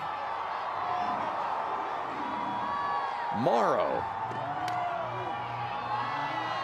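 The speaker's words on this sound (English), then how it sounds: "the crowd coming to life here at Gell Miller Field" Crowd at a college softball game at Gell Miller Field, Kansas versus BYU, cheering and whooping in the stands. A broadcaster talks over it and a shrill whistle-like whoop rises briefly in the middle.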